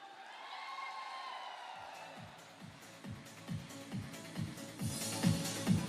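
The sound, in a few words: audience applause and cheering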